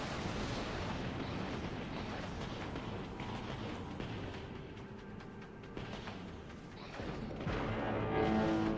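Warship main guns firing in the Dreadnought video game, a dense, continuous roar of heavy booms and rumbling blasts that stays loud throughout, swelling again near the end.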